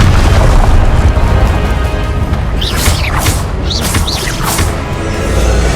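Confringo blasting spells burst in Hogwarts Legacy combat, loud booming explosions over a rumbling low roar with a few whooshing streaks of spell effects in the middle; no talk.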